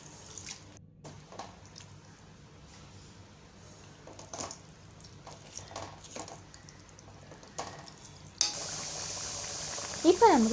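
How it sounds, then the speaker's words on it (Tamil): Mutton intestine curry bubbles gently in a pot, with faint, scattered pops and soft simmering that turn into a louder, steady hiss toward the end. "இப்போ நமக்கு குழம்பு நல்லா கொதித்து எண்ணெய் பிரிஞ்சு வந்துருக்கு."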